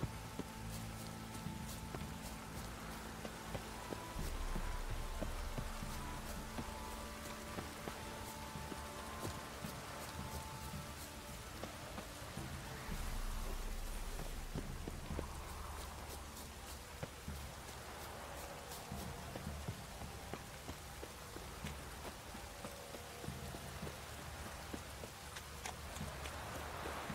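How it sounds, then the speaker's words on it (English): Steady rainfall in The Witcher 3 patters quietly and continuously over a soft background bed, with faint hoof-like clip-clops and scattered drop ticks, and no voices. "Stop raining, my arse will rot off."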